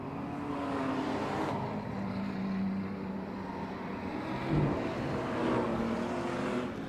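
Ford Falcon race car with a Barra engine racing at a Beachlands club meeting, a steady engine drone passing at moderate distance with a brief louder surge midway, no talk.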